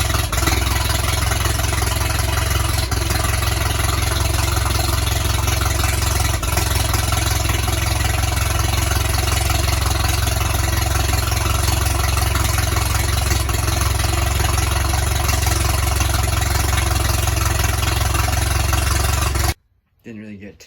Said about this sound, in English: I had the old Hart-Parr going there a little bit.